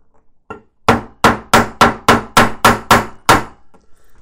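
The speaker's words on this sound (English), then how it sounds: "you might well need a hammer for this part of the assembly" Nine sharp hammer taps land in a steady rhythm, close and loud, each a crisp knock on a small hard part, then quiet.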